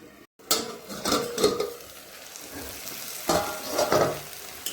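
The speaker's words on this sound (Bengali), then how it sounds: "শাক ভাজা আমার প্রায় হয়ে গেছে। এখন একটু নাড়াচাড়া দেবো, ভালো করে ঘেটে ঘুটে দেবো" Malabar spinach (pui shaak) stir-frying in a pan gives a moderate sizzle under repeated scraping and stirring strokes, with a few louder bursts of tossing and light utensil clatter, no talk.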